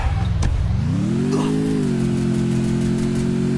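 A motorbike engine in the Free Fire video game revs up and settles into a steady, buzzing drone, loud and close, after a brief sharp click at the start.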